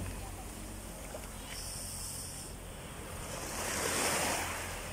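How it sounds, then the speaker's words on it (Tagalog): Steady ocean surf rushes continuously, swelling into a louder breaking wave near the end, with wind noise over the microphone and no talking. "At yung huni ng alon"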